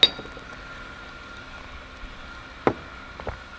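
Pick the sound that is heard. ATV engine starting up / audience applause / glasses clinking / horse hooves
glasses clinking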